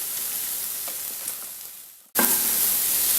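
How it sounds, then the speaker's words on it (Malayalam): Crushed shallots go into a hot pan for a prawn roast, and a steady hiss of frying fades briefly before a fresh, loud sizzle bursts up and holds close and bright. "ഇനി ഇതിലേക്ക് കൊച്ചുള്ളി ചതച്ച് വെച്ചിരിക്കുന്നത് ഇട്ട് കൊടുക്കാം."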